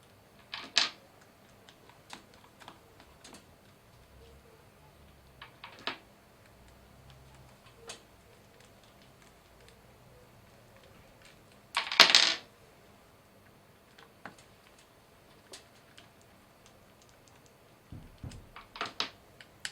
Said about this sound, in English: remove the 5 special screws using a flathead screwdriver or a square head screwdriver